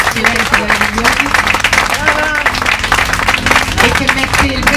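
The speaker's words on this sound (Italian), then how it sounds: "facciamo un applauso un po' più forte per Annalisa" A crowd at a poetry book presentation claps steadily for several seconds in a dense, fairly loud patter, with a person talking over the applause.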